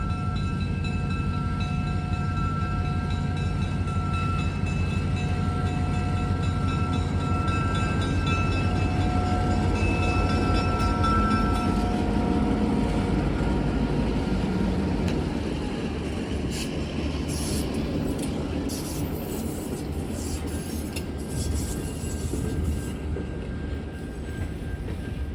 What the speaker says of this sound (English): head down to the Military Avenue crossing and catch the train there